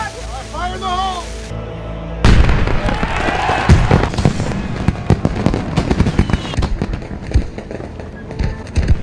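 Fireworks explode in a movie scene at a festival climax: after a quiet start a loud burst breaks out, followed by a dense crackling run of pops and bangs.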